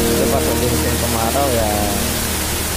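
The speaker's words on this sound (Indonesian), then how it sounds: "Kalau sekarang saat ini lagi hujan terus." Steady rain falling on Tidung Island, a dense, loud hiss filling the whole clip, with faint tonal sounds briefly riding over the wash.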